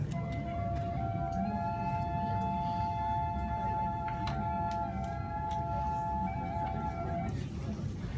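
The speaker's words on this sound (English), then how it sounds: "So this is the sound of the tibia." A steady, reedy tone from an ancient Roman tibia double pipe holds long sustained notes over a constant low rumbling background.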